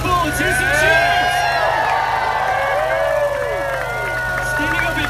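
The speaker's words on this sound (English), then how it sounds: "Let's hear it, people! Let's hear some cheers!" A lively crowd at Maker Faire cheers and whoops for the MegaBot Mk II fighting robot, many voices overlapping with shouts and excited calls in a loud, sustained burst.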